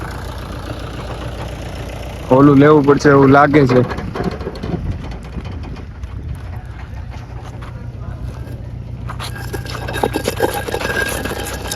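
A farm tractor idles and creeps slowly in reverse, its steady low engine drone running throughout, while voices talk over it and a brief loud harmonic whine rises near the start.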